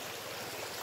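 Steady rushing of a river stream flowing along a village riverbank in the Philippines, a continuous broadband wash with no pauses, close and fairly loud throughout.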